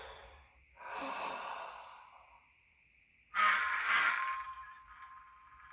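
Two hard, forceful breaths blown into a funnel to hold a ping pong ball up, the second louder and sharper, breathy and close with a short pause between them.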